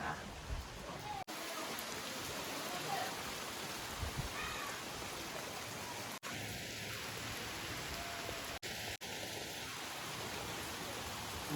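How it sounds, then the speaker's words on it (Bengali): Steady rain falls outdoors the day after Cyclone Dana, a continuous soft hiss of drops on surfaces that holds even across the whole stretch, with a few brief dropouts and faint tonal sounds in the background. "একটু ঝড় ঝড় ভাব বাড়ছে, আর বৃষ্টির পরিমাণটাও বেড়ে যাচ্ছে।"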